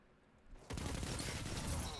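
Sustained gunfire from an opponent in the Destiny 2 video game erupts after a quiet moment, a dense, loud stream of shots continuing to the end.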